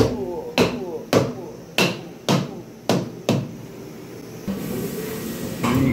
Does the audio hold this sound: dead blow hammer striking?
yes